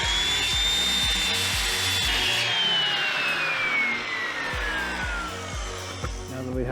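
A radial arm saw makes a crosscut through a length of wood, its motor whining in a slowly falling pitch over rhythmic knocking and rubbing, close and loud with no talking.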